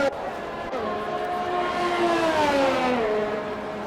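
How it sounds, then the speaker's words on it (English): Formula One race car engines in a video game whine at a steady high pitch, the tone sliding slowly downward as the cars pass, loud and continuous throughout. "don't you just love the sound of these F1 cars, man? They are something else."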